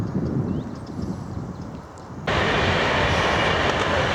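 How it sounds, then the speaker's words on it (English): Train on the main Euston railway line rushing past close by beside a canal, a steady loud rumble that surges louder partway through and continues without voices. "Railway line now is very close to us"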